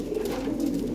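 Toy Lahori pigeon squabs cooing in a steady low throaty murmur, close and continuous through a short stretch with no voices.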